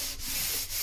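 Hand sanding across a fibreglass boat surface, a steady close abrasive rubbing with two brief stroke changes in under a second.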